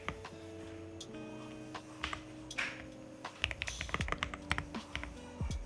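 Quick clacky keystrokes come from a computer keyboard used for coding on a Hyprland Linux desktop. The taps fall in uneven bursts, close and crisp, over a faint steady electronic hum, and no one talks.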